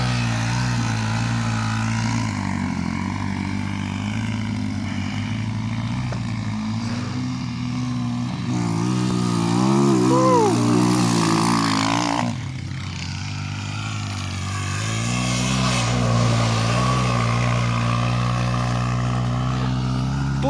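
Enduro motorcycles, Japanese and Chinese bikes, rev and drone steadily while riding off-road through mud, a loud sustained engine roar with rising and falling pitch and a brief surge in the middle, no talk.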